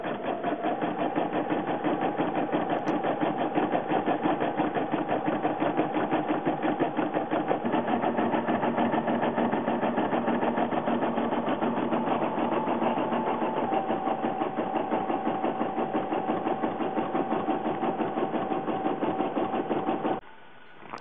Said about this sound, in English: Now I'm going to select the same size circle frame but with a thicker stitch pattern. And I'm going to stitch the applique onto the pants.